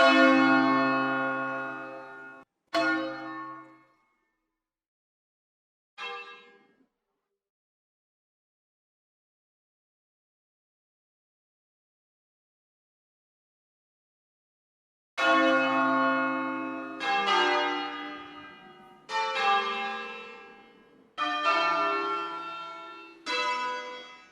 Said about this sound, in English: let's add some church bells